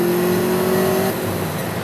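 A sports car in Grand Theft Auto Vice City drones steadily with a sustained engine tone, close and even, dropping slightly in pitch just past the midpoint; no voices.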